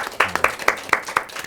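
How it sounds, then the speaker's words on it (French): Audience at a lively Malian gathering claps in short, scattered bursts, a handful of sharp hand claps at an irregular rhythm, moderately close, with faint voices underneath. "Applaudissez pour vous, même s'il vous plaît, les gars."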